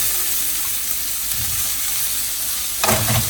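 Broccoli tossed into a hot pan for a vegetable medley gives a steady close sizzle and hiss, then a sudden louder burst of crackling frying as the florets land.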